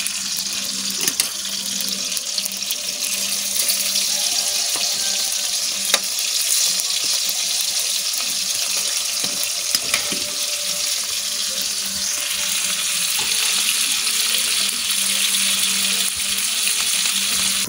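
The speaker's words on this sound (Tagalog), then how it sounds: "Magsangag ako ng kanin." Leftover rice frying as sinangag in a hot pan, a loud steady sizzle with occasional spatula scrapes and stirring clatter, running on without any voices.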